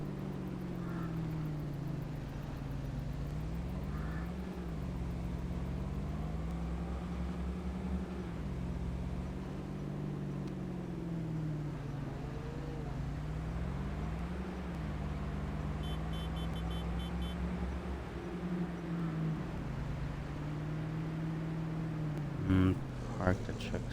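A truck drives in Farming Simulator 22 during a grape harvest, its low engine drone rising and falling steadily through the whole stretch, with a few brief clunks near the end.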